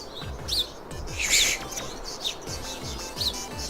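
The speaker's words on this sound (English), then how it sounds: "Birds, you're kind of wigging out." Small birds chirp in the video game NEKOKORO, several short, high tweets scattered over a soft ambient background, with a denser burst in the middle.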